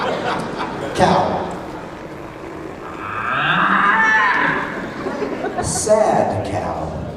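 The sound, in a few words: person imitating a cow mooing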